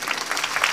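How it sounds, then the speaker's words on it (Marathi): An audience claps in dense, steady applause that holds at an even level through the whole moment, close and with no speech over it. "टाळ्या वाजवा ना जोरदार"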